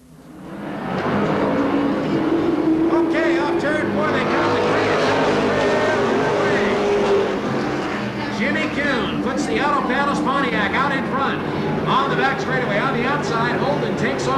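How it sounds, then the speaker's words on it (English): Stock cars race at Seekonk Speedway in 1992, among them the number 18 Chevrolet, making a loud continuous engine roar that swells as cars pass close by. A race commentator talks over the engines. "Manny Dias in car number 18 on the outside of Madison. He'll try to take third in that Chevrolet."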